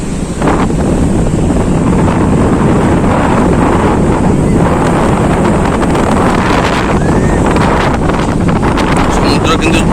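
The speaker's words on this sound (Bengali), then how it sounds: "প্রচুরই বাতাস হচ্ছে তাদের দেখো সমুদ্র পুরো উত্তাল ভাব রয়েছে" Strong wind roars across the microphone at Digha beach on the Bay of Bengal after Cyclone Remal, with rough surf crashing beneath it; the loud, steady buffeting runs through the whole clip.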